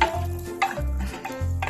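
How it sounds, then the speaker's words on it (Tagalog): Beef liver frying in margarine or oil for a stew hisses softly in the pan, broken by a few brief stirring scrapes and clinks, with no talk. "Fry lang sa margarine ng konti or oil."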